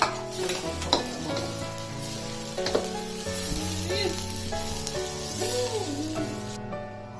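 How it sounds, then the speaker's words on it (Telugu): Onions fry in a pan with a continuous close hiss of sizzling oil and occasional stirring scrapes, and a faint tonal hum runs beneath the cooking. "ఆనియన్స్ దోరగా వేగిన తర్వాత టమోటా వేసుకోవాలి"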